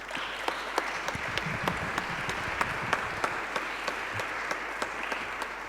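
Audience applause after an introduction at an association event, steady dense clapping throughout with a few sharper claps standing out, moderately loud and at a middle distance.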